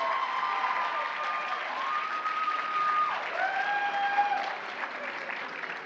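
An audience at a Japan Impact cosplay contest keeps applauding after a performance. The steady, moderately loud clapping runs throughout under sustained electronic music tones that shift pitch.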